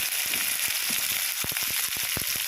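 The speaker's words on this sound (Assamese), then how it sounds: "এতিয়া কাটি থোৱা পিঁয়াজখিনি অলপ হাফ বইল কৰি লওঁ" Chopped onions half-frying in hot oil, a steady loud sizzle with brief crackles and pops scattered through it.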